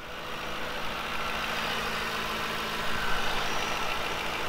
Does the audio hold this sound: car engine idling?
yes